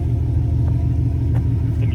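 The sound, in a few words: Toyota Supra engine running rich, rumbling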